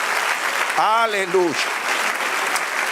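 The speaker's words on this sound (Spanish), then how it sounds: "Den un aplauso a Dios" Congregation applauding in a church service, a steady wash of clapping throughout the short stretch while a voice rises briefly over it near the middle.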